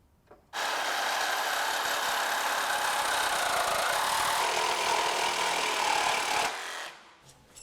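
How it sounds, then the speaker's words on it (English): A cutoff wheel grinds through the steel frame of a 1963-1972 Chevrolet C10 longbed truck, starting abruptly with a loud, sustained high-pitched screech that holds steady for about six seconds before winding down. "we're going to start off with a cutoff wheel and see how we do"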